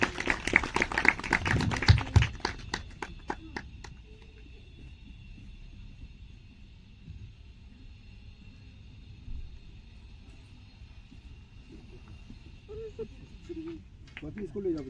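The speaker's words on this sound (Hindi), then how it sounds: "नया दोस्तों को जोरदार तालियों के साथ स्वागत।" Brisk, close clapping from a small group welcoming new friends at a meditation retreat in Dehradun sounds for about three seconds, then fades to a quiet room with a faint steady tone, low rumble and a few scattered taps.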